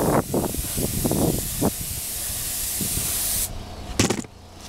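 Spray paint hisses onto a Benelli motorcycle fairing outdoors beside a house, a close steady spray with short gaps, quick soft taps and a brief final burst before stopping.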